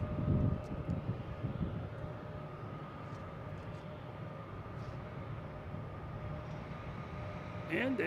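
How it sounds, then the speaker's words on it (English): A Delta Boeing 767 arriving from Dublin at Boston Logan, its engines a steady, moderately distant drone that holds evenly throughout, with a short louder burst of other noise at the very end. "And a Delta 767"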